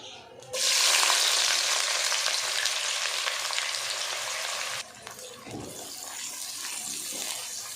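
Chopped onions, two medium ones, hit hot oil in a kadai for a pea pulao, bursting into a loud, steady sizzle that holds for several seconds, then drops briefly before resuming with stirring.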